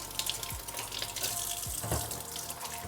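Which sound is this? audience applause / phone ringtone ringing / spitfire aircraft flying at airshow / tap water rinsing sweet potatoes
tap water rinsing sweet potatoes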